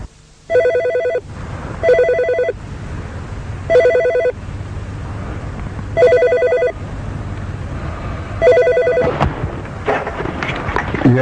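An old-style telephone bell rings loudly in a house, in five evenly spaced bursts with short pauses between, with no talk; a faint clatter follows the final ring.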